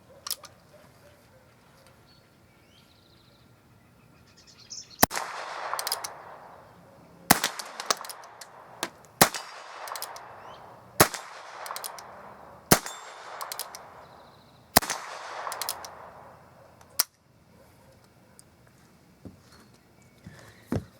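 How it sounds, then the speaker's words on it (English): Heritage Rough Rider Rancher .22 single-action revolver firing six sharp shots at uneven intervals, each a loud crack with ringing decay, after a quiet opening with faint handling sounds. "These are too much fun just to only have 6 shots, but with a revolver like this, that's all you get."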